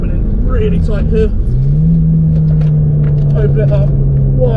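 A Volkswagen Scirocco R accelerates on the Castle Combe race circuit, its engine note climbing into a steady, loud drone heard from inside the car. A voice talks over the engine in the first moments.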